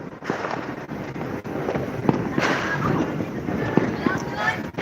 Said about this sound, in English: There's still fireworks from far though. You can still hear it.